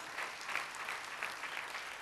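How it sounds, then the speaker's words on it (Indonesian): A crowd claps steadily and enthusiastically during a church worship service, a dense, continuous wash of applause with no voices standing out. "Tepuk tangannya meriah."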